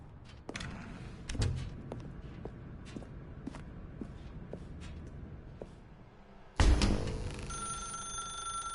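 Telephone ringing in a video game, a bright ring arriving suddenly near the end after a stretch of soft footsteps and shuffling movement in a quiet room.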